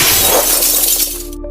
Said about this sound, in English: Crash of breaking glass.